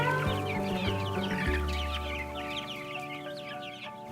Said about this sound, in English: See those chickens?